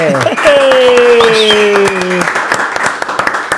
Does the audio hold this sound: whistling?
no